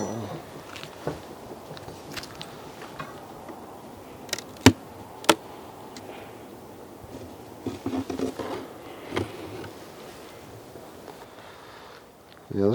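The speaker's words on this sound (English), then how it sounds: "there's a lot of bees in this top box compared to what it was a few weeks ago" Honey bees buzz steadily in an opened hive top box during early forage season, a faint, continuous drone with occasional louder passes close by and a few sharp taps and knocks from handling the box.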